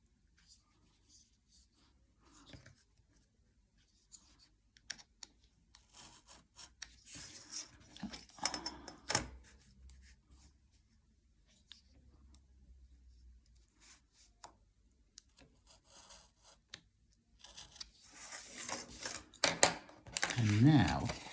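Scissors cut through paper while an elegant Christmas decoration is made, producing scattered snips and papery rustles, quiet at first and louder near the end, with a person talking in between.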